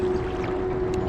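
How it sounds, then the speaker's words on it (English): A motorboat passes on the Spring River in Oklahoma, its steady engine drone and hum holding constant through a short stretch of water noise, fairly close and alone without talk. "Boats."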